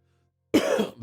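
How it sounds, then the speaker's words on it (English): A single short, harsh cough or throat-clearing bursts out close to the mic after a moment of near silence. "Sorry for all the coughing."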